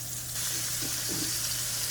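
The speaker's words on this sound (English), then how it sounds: "Okay, so now I have them sizzling" Chicken strips and party wings frying in hot oil give a steady, close, even sizzle that holds through the whole stretch with no talking.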